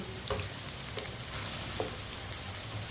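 Okra and potato fry together in a pan with a steady hiss and sizzle, broken by a few light scrapes and clinks of stirring, close and continuous with no talk.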